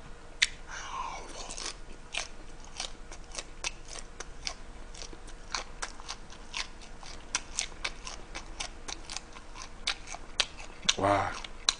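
Someone chews butter-grilled shrimp eaten whole, shell and all, close to the mic: a dense run of crisp crunching bites with a quiet voice murmuring now and then and a louder burst near the end.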